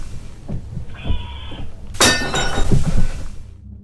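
A cup suddenly shatters into pieces midway, a loud bright crash of breaking ceramic with scattering fragments, preceded by softer thumps and clinks in a quiet room.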